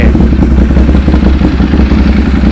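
A 2014 Ducati 796 motorcycle engine runs loud and close, a steady deep rumble with a lumpy, uneven beat and slight revving, heard alone without talk.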